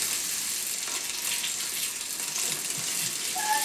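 A bicycle wheel spun steadily while its chain is oiled with a needle, giving a continuous hissing, whirring rush with faint ticking, close and fairly loud, with no talking.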